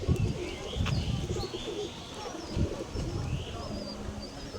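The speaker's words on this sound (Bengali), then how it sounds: "খুবই সুন্দর এটা মাদি কবুতর" A red-check female pigeon coos on an abandoned rooftop, giving low, repeated throaty coos over a steady breezy background, with faint chirps from other birds.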